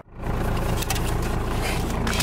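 A stock first-generation Cummins diesel truck with an HX35 turbo pulls away with a steady, loud, broadband engine roar and road noise, holding even throughout.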